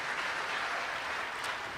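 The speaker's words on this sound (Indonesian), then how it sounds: "Kasih tepuk tangan dulu buat Tuhan" A church congregation applauds, a steady broad wash of clapping that fills the short moment without pause or speech.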